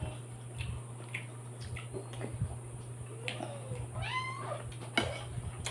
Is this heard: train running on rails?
no